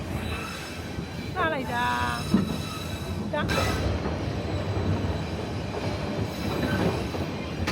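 A Shan State passenger train creeps slowly over a century-old railway, its wheels squealing in long high-pitched screeches over the steady rumble and clatter of the cars, with a voice speaking briefly.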